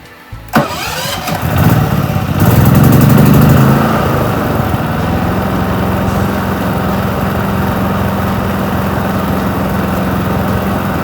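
A portable generator mounted on a truck cranks and catches, then settles into a steady, fairly loud running hum that continues without a break for the rest of the clip.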